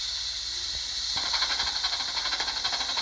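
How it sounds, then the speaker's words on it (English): A video game train starting up on a railroad line, with a steady hiss of steam building and then a rapid rattling chuff that sets in and repeats evenly, moderately loud and alone. "it takes a little bit for the trains to start up."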